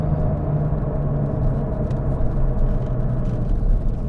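Porsche GT2 RS with a manual clutch driving while still warming up, not in sport mode: a steady low engine and road rumble heard from inside the cabin, even and continuous with no speech.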